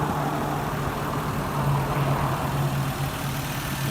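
A 2011 Porsche Cayenne Tiptronic with a 3.6 liter V6 idling, a steady low engine hum with a faint continuous drone, close and even throughout.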